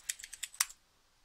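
Computer keyboard typing a password, six quick close keystrokes in a light uneven rhythm, the last one sharper, then quiet.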